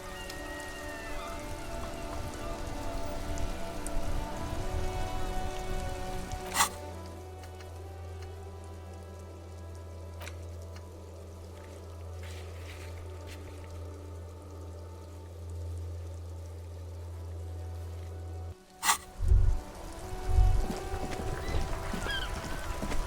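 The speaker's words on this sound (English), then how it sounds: "This rain will not let up anytime soon." Steady rain falls in the game Disco Elysium, a constant hiss of drops on surfaces under a low droning ambience, broken by a couple of sharp clicks and a brief thump near the end.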